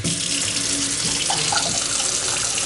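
A kitchen faucet runs water into a sink at good pressure, a steady close hiss and splash that continues without a break.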